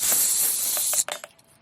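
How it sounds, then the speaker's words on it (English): An air hose snaps onto a Bostitch pancake air compressor set at about 120 psi: a loud continuous hiss of escaping air cuts off abruptly, followed by a few sharp clicks of the coupling. "So we're going to hook this air hose up"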